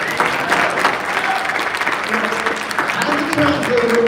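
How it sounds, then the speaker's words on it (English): Applause at a boxing press conference for Jose Zepeda versus Regis Prograis, a steady broad patter of clapping from the room, with voices and faint tones running underneath throughout. "a round of applause"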